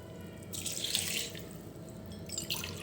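Water poured from a glass into a pot of washed raw rice while cooking tomato rice, a splashing, gushing pour rising at about half a second and running steadily for a couple of seconds, close and moderately loud with no talk.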